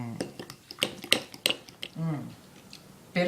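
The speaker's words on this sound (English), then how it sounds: "Now get down in there with a dinner fork and mix it all together." A dinner fork scrapes and clinks against a bowl while mixing a Kamut grain salad with orange gravy dressing, quick close metallic taps and scrapes, with a voice speaking briefly partway through.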